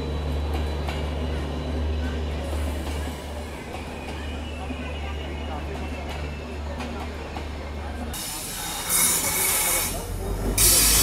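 Indore Express pulling into a station in Jodhpur in the evening, a steady low rumble and hiss of the train continuing throughout, with a louder burst of noise near the end and people talking over it.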